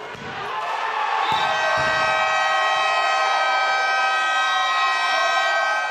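A loud, sustained siren with a steady harmonic wail marks the end of an indoor football tournament match in a sports hall, holding for several seconds after a brief crowd noise and a couple of thumps at its onset.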